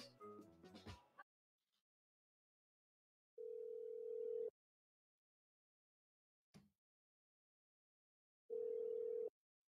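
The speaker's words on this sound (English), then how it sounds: "I got to make a phone call right quick because I got to get a woman's perspective." A telephone dial tone sounds while a call is placed, with two steady tone bursts of about a second each separated by silence, faint and alone, after a brief clatter at the start.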